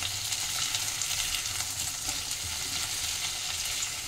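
Tomato, onion and capsicum fry lightly in a pan over medium-low flame, giving a steady, close sizzle with a low bubbling undertone throughout, no voices present.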